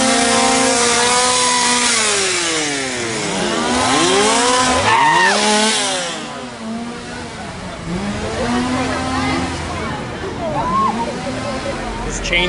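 Loud, wavering chainsaw whine rising and falling in pitch repeatedly as it revs at Halloween Horror Nights 28, with voices talking underneath and busy crowd noise.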